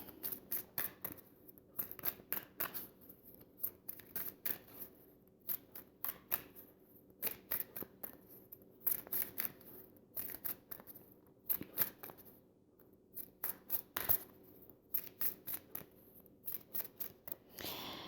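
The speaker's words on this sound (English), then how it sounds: "as I was shuffling these cards" Soft, rapid bursts of cards riffling and shuffling, repeating in irregular clusters at low volume with quiet pauses between.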